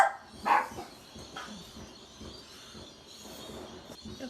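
A single dog bark sounds early, faint and somewhat distant, with fireworks going off outside, followed by quiet background noise.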